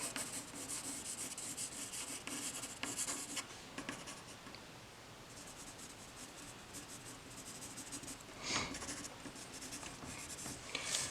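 Graphite pencil shading darkens the hair in a grid-technique drawing on paper: continuous close scratchy strokes with steady rubbing texture, a few brief louder scrapes, and no talking.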